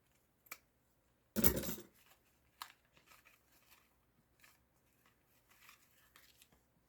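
Scissors snip through seam binding and paper scraps while making a shabby vintage craft tag, one loud close crunching cut followed by faint rustles and small handling clicks.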